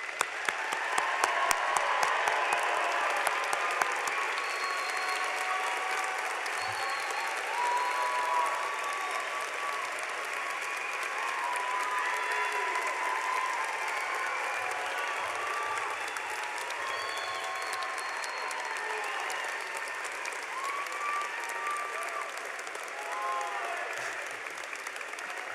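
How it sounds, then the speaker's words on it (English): Family and friends give a long, sustained round of applause for a graduating medical school class at a White Coat Ceremony, dense clapping filling a large hall at an even level throughout. "Family and friends, let's give them a round of applause."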